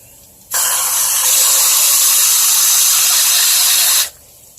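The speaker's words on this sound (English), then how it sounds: "A lot of bubbles in there right now, just because of the high pressure flow of the water coming out" High-pressure water rushes from a ClearSource water filter system. A loud, steady hissing gush starts abruptly, holds for about three and a half seconds, then cuts off, leaving quiet background.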